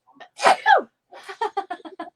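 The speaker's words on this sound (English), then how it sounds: "little sneezing fit" A person lets out a little sneezing fit: two sharp, close sneezes followed by a quick run of short breathy aftershocks, all loud and alone without talk.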